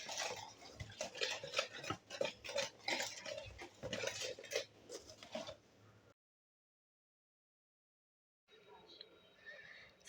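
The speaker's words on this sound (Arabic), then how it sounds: "هنا كنحرك المكونات وغادا نبدا نضيف الدقيق غير بشويه" A spoon stirs flour into a butter-free dough mixture for Moroccan ricebond cookies, giving about six seconds of rhythmic scraping and clinking against the bowl, then silence and a few faint taps.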